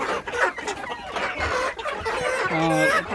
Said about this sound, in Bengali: এগুলো বড়ো পাকিস্তানি রাতা